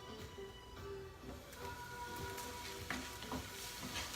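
Ackee and saltfish frying in a pan, a steady soft sizzle with intermittent scraping stirs, close but fairly quiet, faint music in the background.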